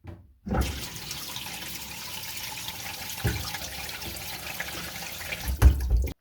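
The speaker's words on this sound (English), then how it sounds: "Just filled up the bath a couple of inches of water, and I'm going to let the plug out." Bath water drains after the plug is pulled from a tub holding a couple of inches of water, a steady close gurgling rush that continues throughout with a few louder surges and no talking.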